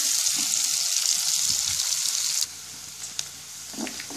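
Garlic and onion fry in hot oil for a kara kulambu, giving a steady, loud sizzling hiss that cuts off partway, leaving softer crackles and light pan noises.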